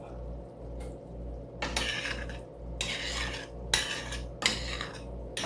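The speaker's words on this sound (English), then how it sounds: "I need to go through and take out the bay leaves" A spoon scrapes and clinks inside a pot of cooked shepherd's pie filling with carrots, onions and celery, fishing out bay leaves, in a few separate bursts of rasping stirs over a low steady kitchen hum.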